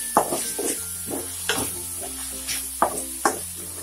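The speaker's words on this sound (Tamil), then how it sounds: "நல்லா வதங்கட்டும்." Onion, green chilli and ginger garlic paste sautéing in a hot pan, a continuous sizzle punctuated by several sharp spatula scrapes and knocks, with faint tonal hum in the background and no talking.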